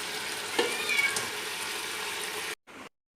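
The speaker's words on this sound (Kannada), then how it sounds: "ಇತ್ತೆ ಫ್ರೈ ಮಂತಿನ ಎಣ್ಣೆಗೆ ನೀರುಳ್ಳಿ ಪಾಡ್ಗ" Onions frying in oil for a chicken fry masala hiss in a steady, close sizzle, with a brief meow-like squeak over it before the sound cuts out.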